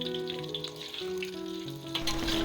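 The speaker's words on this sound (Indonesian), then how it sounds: "Goreng hingga bawang merah harum dan layu." Sliced shallots fry in hot oil with a steady, soft sizzle and crackle, with faint tonal sounds running underneath.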